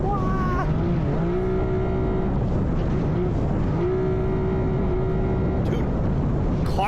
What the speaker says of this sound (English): Listen to that super jet.